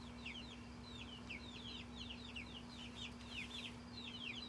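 A hen clucks near a newly built backyard chicken coop, giving soft, scattered, repeated clucks over faint steady background noise, heard distantly with no talking.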